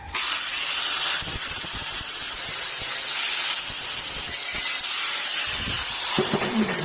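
Loud, steady abrasive grinding hiss of a flap disc sanding stainless steel, continuous and close, with a harsh high-pitched whine throughout.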